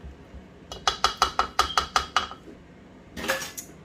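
Bechamel sauce whisked in a pan, producing a quick run of about ten rhythmic metallic clinks and scrapes, close and clear. A brief rougher scrape follows after a short pause.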